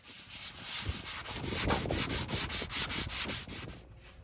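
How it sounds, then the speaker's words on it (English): Two-part epoxy putty patches on a farmhouse table are hand sanded in quick, even back-and-forth strokes, a close, rhythmic rasping that repeats about a dozen times before stopping. "I filled the gaps in the patches with a 2-part epoxy putty and then hand sanded them."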